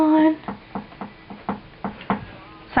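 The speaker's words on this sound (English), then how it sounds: "my chair is knocking" A chair knocks in a steady series of about eight sharp, evenly spaced taps, close and fairly loud, after a brief spoken word at the start.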